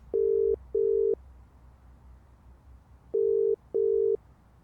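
A phone call rings out over speakerphone as a steady electronic ringback tone, sounding in two pairs of short identical beeps separated by a pause, clear and moderately loud over faint room noise.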